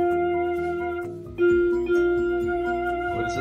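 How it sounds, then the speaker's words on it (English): A toy backhoe plays its electronic sound effect, a tinny, buzzing tone with a stuttering mechanical pulse, heard up close; it briefly dips, then restarts louder and carries on to the end. "It's a backhoe sound."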